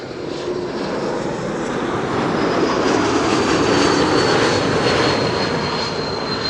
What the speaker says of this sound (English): There's the E2 whistle.